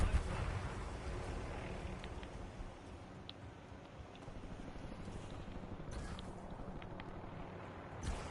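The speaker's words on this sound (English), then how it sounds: "Enemy grenade!" An enemy grenade blast and distant gunfire rumble through a Warzone video game match, faint and muffled under steady wind-like ambience, with a few sharp clicks scattered throughout.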